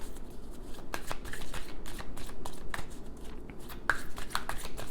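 Oracle cards being shuffled by hand, a run of quick riffling slaps and papery flutters in an irregular rhythm, close and fairly loud, with no talking.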